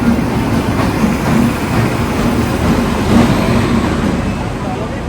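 Onboard the Rajdhani Express passenger train on its long run toward Dibrugarh, with a steady, loud, continuous rumble of the moving carriages and wheels on the track.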